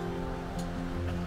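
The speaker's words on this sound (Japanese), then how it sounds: "川ですね。" River water flows steadily beside a Swiss forest between Malters and Wolhusen, a constant close rushing wash with a low tonal hum running underneath and no voices.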